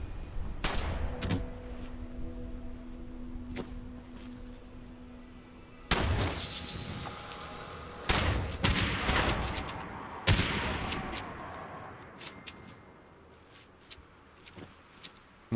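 Bursts of gunfire in the video game Fallout 76: scattered single shots and rapid volleys crack out repeatedly over a steady background, some loud and close, others fainter.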